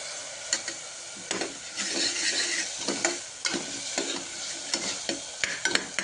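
Onion and tomato sauté in a pan for bottle gourd koottu, a close, steady sizzle broken by repeated scraping stirs of a spoon against the pan at an uneven rhythm, with no voices.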